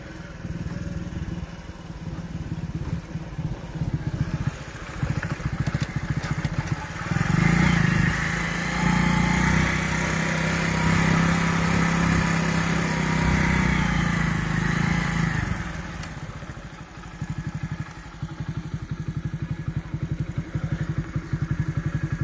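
A motor engine runs at a paddy field being readied for rice planting, a steady droning hum that swells louder through the middle stretch and then eases back, with clattering and thumps over it and no talking.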